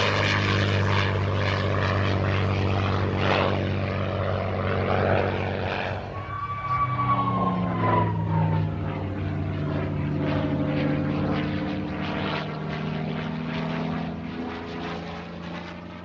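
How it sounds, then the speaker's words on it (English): A World War II P-51 Mustang propeller fighter drones loudly and steadily, its engine pitch shifting midway as it passes, with a sustained rumble and buzzing harmonics throughout. "let's take one last look at the P-51 Mustang, which is probably one of the coolest World War II planes ever built."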